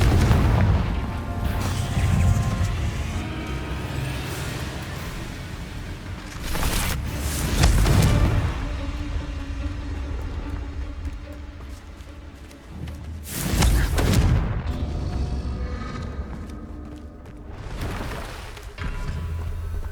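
Deep booming explosions from Confringo spells cast in the video game Hogwarts Legacy, with several heavy bursts standing out over a constant dense rumble of game sound.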